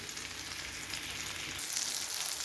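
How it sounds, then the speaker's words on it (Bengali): Marinated rui fish pieces fry in hot oil in a pan, a steady close sizzle that grows brighter and louder partway through. "মাখিয়ে রেখেছিলাম দশ মিনিটের মতো এখন সেটা আমি ভেজে নিচ্ছি"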